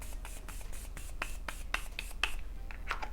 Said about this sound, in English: So I'm gonna spray this all over my face.